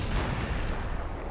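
A tank cannon shot in World of Tanks, a low booming report with rumbling decay that fills a short span at moderate loudness, with no voices.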